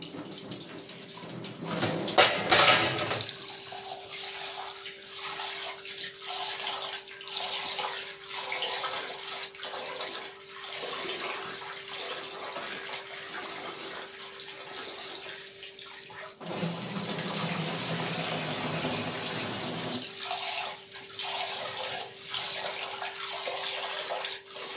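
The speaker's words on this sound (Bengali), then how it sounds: "চাল ধোয়া হয়ে গেছে" Rice being washed under a running kitchen tap, a continuous close stream of water with sloshing and swirling as the grains are rinsed, a louder splashing burst near the start and a fuller gush late on, no speech.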